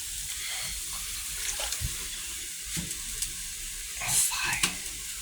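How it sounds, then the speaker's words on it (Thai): Fish sauce poured into a hot pan of stir-fry with minced pork: steady sizzling and frying hiss, with brief louder spits and bursts as the liquid hits, someone talking throughout. "เดี๋ยวขอใส่น้ำปลาอีกนิดนึงนะฮะ"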